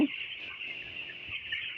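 Fourteen-day-old broiler chicks in a poultry shed, a continuous high chorus of cheeping and peeping from many birds, fairly close and steady throughout.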